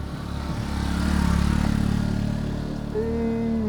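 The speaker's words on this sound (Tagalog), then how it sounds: "Pati motor, hirap na hirap." Motorcycle engine labouring hard in low gear up a brutally steep climb, a loud, steady strained drone that swells and dips over a few seconds, with a rising whine near the end; no talk.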